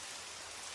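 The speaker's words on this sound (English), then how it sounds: "Just the damp hush of rain tapping on pine needles" Rain tapping on pine needles in a forest, a soft, steady, hissing patter with no other sounds.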